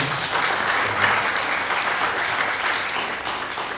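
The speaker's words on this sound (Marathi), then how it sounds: "नेने काकांना एकदा जोरदार टाळ्या वाजवूया" An audience in a hall bursts into steady, dense applause honoring Nene kaka, a continuous wash of clapping that holds evenly throughout.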